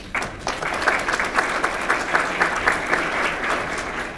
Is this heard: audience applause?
yes